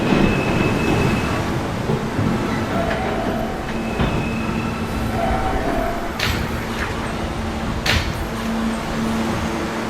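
A Camden-bound E subway train rumbles steadily along the track, with a continuous loud roar, squealing wheel tones and occasional sharp clanks of the cars, no talking over it.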